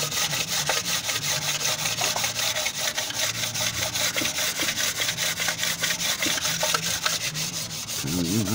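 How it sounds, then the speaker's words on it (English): Continuous rasping strokes of 320 grit wet and dry sandpaper worked over a Morris Minor cylinder head, loud, close and steady with no speech. "320 grit, wet and dry sandpaper."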